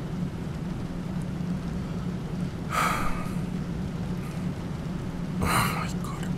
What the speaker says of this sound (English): And it's raining even more.